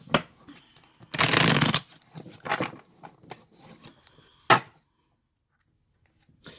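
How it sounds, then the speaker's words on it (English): A deck of tarot cards being shuffled in a few quick riffling bursts, close and crisp, with scattered small handling clicks and a final tap after a pause. "and then we'll give these a shuffle."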